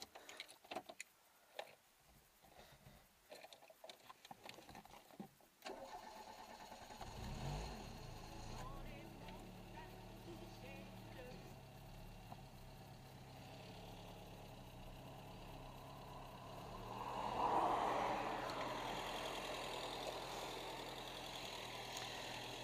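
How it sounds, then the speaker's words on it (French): A Renault 11 TXE from the 1980s is started: a few clicks and rustles, then the engine catches and settles into a steady mid-pitched idle with a brief rev near the end, heard close by. "le bruit Renault des années 80"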